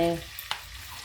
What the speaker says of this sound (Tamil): இந்த ப்ரான்ஸை வந்து நான் இதில் போட்டு பொரிச்சு எடுத்துக்குவேன்